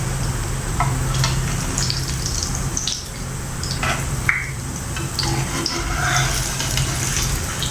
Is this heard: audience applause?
no